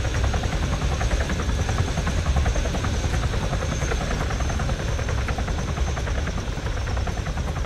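A military helicopter in the Arma video game flies close and loud, its rotor chopping in a steady rapid thrum over a heavy engine drone that stays constant throughout.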